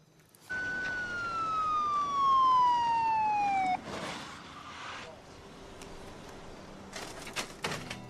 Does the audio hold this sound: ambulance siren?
yes